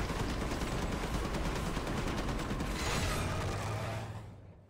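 Turret fire in the video game Marvel Heroes, playing as the Punisher: a dense, loud, unbroken mechanical rattle of rapid shots with grinding movement, tailing off at the end, no talk.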